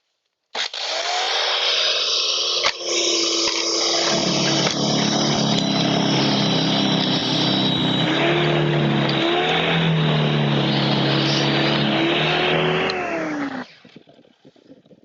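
A YERYORK single-stage snow blower runs steadily and loudly on a gravel surface, its engine drone carrying grinding, scraping churn from the auger for about thirteen seconds before cutting off abruptly.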